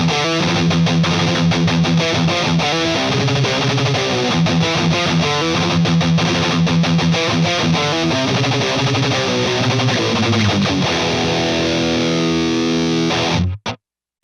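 Electric guitar played through a HeadRush pedalboard with a Tube Screamer distortion pedal, giving loud, saturated driven chords and riffs that ring continuously before cutting off abruptly at the end.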